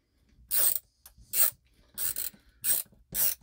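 A WorkPro ratcheting screwdriver clicks as it is turned, giving five distinct bursts of rapid ratchet-pawl ticking in an even rhythm, close and fairly loud with short pauses between strokes.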